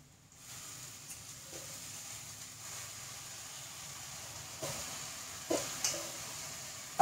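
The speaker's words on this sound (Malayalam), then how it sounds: "മത്തൻ്റെ ഇല അങ്ങോട്ട് ഇട്ട് കൊടുത്തു," Pumpkin leaves sizzle steadily in a hot pan for Kerala-style mathan ila thoran, a soft even hiss with a few faint clicks of stirring near the end.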